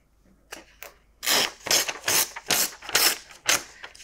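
Paper being torn along the edge of a ruler for a junk journal, a series of about six short crisp ripping bursts in a steady rhythm, close and quiet with no talk.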